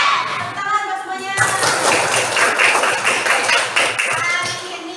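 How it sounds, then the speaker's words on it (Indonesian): Classroom of children clapping their hands together in a rhythmic class cheer, a dense burst of claps starting after a second and continuing steadily, with children's voices and chatter mixed in. "Tepuk tangan buat semuanya"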